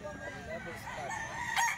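An 18-month-old stag rooster at a market crows faintly in one rising call, mixed with low murmuring voices and background bustle.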